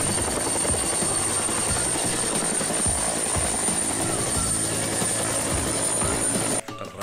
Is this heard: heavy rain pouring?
no